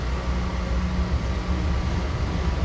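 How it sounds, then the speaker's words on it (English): A PATCO Speedline train sits stopped at Franklin Square station, giving off a steady, even rumble and ventilation-like hum that holds unchanged throughout, with no voices. "My PATCO train just stopped at Franklin Square."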